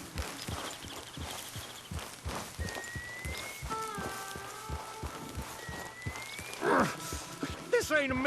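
A horse walking downhill in Red Dead Redemption 2, its hooves clip-clopping in a slow, uneven rhythm close by, with tonal music and occasional quiet speech layered over the steps.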